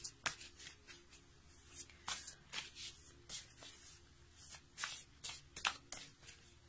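Tarot cards shuffled by hand in repeated quick riffling bursts, close and fairly quiet, with no one talking.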